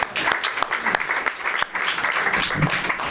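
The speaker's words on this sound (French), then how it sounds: "On peut l'applaudir quand même." Applause from an audience after a talk, steady clapping lasting a few seconds, moderately loud with some voices mixed in.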